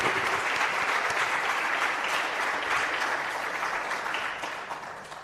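A conference audience at a youth empowerment event breaks into loud, sustained applause, a dense wash of clapping that carries evenly and then begins to thin out toward the end.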